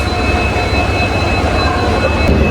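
Train noise at Bangalore railway station, a steady low rumble with a faint high whine running throughout, loud and continuous with no talk over it.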